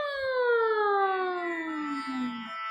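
A voice imitates a siren in a singing exercise, a single smooth hum gliding slowly downward in pitch, clear and close with no other sounds.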